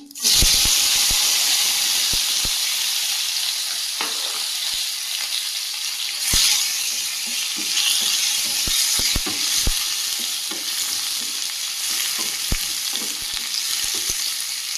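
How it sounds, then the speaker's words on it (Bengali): Bay leaves, whole cumin, chopped onion and garlic fry in hot oil, a loud continuous close sizzle and hiss dotted with sharp clicks and scrapes of stirring, with no talk. "দিয়ে দেব দুটো তেজপাতা দিয়ে দেবো গোটা জিরে কুচিয়ে রাখা পেঁয়াজ আর রসুনটা দিয়ে দেবো"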